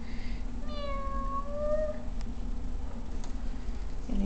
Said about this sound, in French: C'est Tully, mon chat.